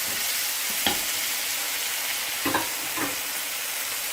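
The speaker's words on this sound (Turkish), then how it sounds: "Tekrar domatesler yumuşayana kadar bir güzel kavuruyoruz." Tomatoes sautéing in a pan with onions and peppers give a steady sizzle and hiss, broken by a few light stirring scrapes, all close and without talk.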